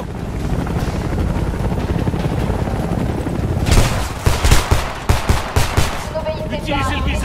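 Automatic gunfire in the video game Homefront, starting with a dense, loud roar of engine and wind noise, then a run of rapid shots and bursts, with shouted voices mixed in.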